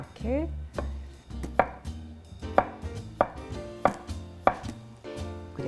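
A knife chops radish on a wooden cutting board while making galbitang, with a steady series of sharp, close taps at about one-second intervals and quiet kitchen background between strokes.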